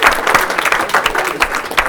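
An audience at a live comedy game-show finale applauds, with close, dense clapping that keeps going throughout.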